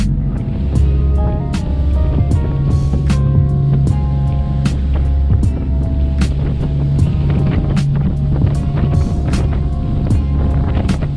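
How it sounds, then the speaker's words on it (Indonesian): A fast boat's engine droning loudly and steadily on the open-sea crossing from Bangsal harbour in Lombok to Padang Bai in Bali, with water slapping the hull and repeated sharp thumps over the waves. "Fastboat berangkat dari Pelabuhan Bangsal di Lombok menuju"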